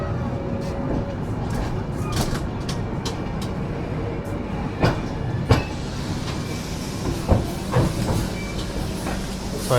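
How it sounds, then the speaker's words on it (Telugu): The Prashanti Express, train 18463 from Bhubaneswar to KSR Bengaluru, rolls along just after leaving Khurda Road Junction, a steady loud rumble with rhythmic clicks and clacks from the wheels heard from inside the coach. "మన ట్రైన్ కుర్తా రోడ్ జంక్షన్ నుంచి అయితే బయలుదేరిపోయింది"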